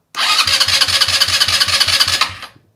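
An ATV engine fitted with a Duncan Fat Boy 4 exhaust taken from a Raptor 700 cranks with rapid rhythmic chugging, then cuts off abruptly; the churning is loud and close.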